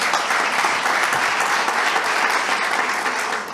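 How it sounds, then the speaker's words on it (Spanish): A congregation applauds during a sermon, loud, dense and sustained clapping from many hands that fades slightly at the very end. "¿Quieren dar un aplauso por eso?"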